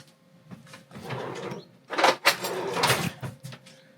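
A cutlery drawer aboard a narrowboat slides open and its contents clatter and scrape under rummaging hands, with louder bursts of rattling metal midway.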